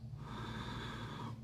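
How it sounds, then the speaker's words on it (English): Ujjayi breathing drawn through a partially closed glottis during a yoga practice, one long, close, hissing breath with a soft throaty rasp, steady for over a second before fading. "Listen to the sound of the breath."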